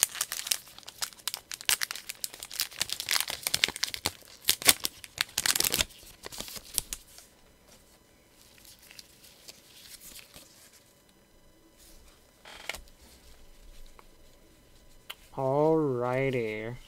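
Crinkling and tearing of a Pokémon Chilling Reign booster pack wrapper as it is opened, with close, busy rustling bursts that settle into quieter handling of cards, ending with a wavering electronic tone.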